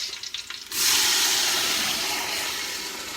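A sudden loud, steady sizzling hiss begins as washed rice is poured into a hot pot of cooked onion and continues frying evenly.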